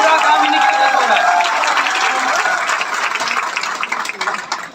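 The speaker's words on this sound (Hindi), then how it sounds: "मैं चाहूंगा एक बार जोरदार तालियां आप तीनों ही लोगों के लिए।" A crowd at a business presentation claps loudly and steadily, the close, full applause thinning a little toward the end.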